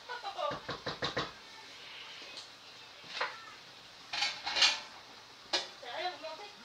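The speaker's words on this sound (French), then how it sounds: "Et là, on va mettre le couvercle." A lid is set onto a dish of currywurst with a quick run of close metallic rattles and clinks, then a few scattered knocks and scrapes follow.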